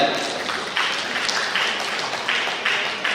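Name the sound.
applause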